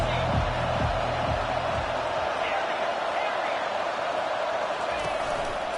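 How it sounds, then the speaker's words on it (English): A stadium crowd at a football game roars in a dense, continuous wash of cheering, loud and steady throughout, with a commentator's voice faintly over it at the start. "This crowd bringing the energy and noise early."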